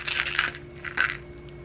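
Keys and small personal items set down on a desk, giving two short bursts of jingling metallic clatter, close and moderately loud, with a quiet room in between.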